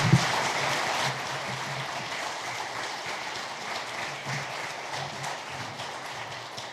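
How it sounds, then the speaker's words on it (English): An audience applauds at a city State of the City address, a dense, steady wash of clapping that holds for the whole stretch, loudest at first and then settling slightly softer. "Another round of applause, City Administrator, Honorable Mayor Harold"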